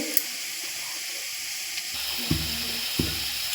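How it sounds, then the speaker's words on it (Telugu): Potato pieces fry in a little oil with salt and turmeric, a continuous soft sizzling hiss that thickens midway, punctuated by a couple of low stirring knocks against the pan. "ఇవి ఫ్రైగా అవుతున్నాయి చూడండి"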